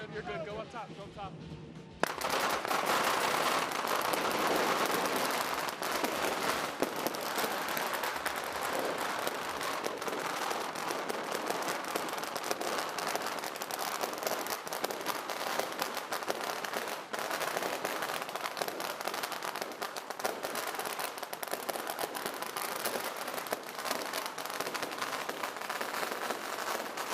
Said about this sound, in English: How did you like lighting the firecrackers?